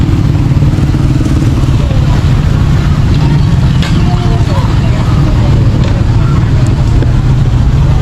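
A boat's outboard motor runs steadily at close range, its low, rumbling drone loud and continuous throughout with light clatter on top and no voices.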